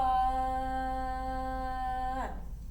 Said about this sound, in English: When we sing a whole note, we sing it like ah.